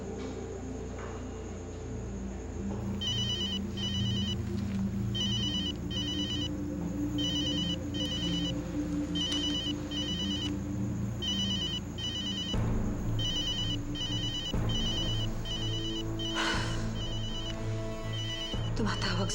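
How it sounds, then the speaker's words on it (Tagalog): Phone ringtone for an incoming call, a repeating electronic trill in regular short bursts over a low humming background, with a voice speaking alongside it. "Tumatawag si Mabel"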